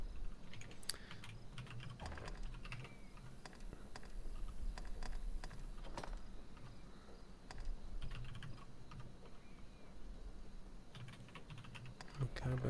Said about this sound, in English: There's a lot of typing happening over this, Sam.